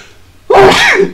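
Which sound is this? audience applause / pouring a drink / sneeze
sneeze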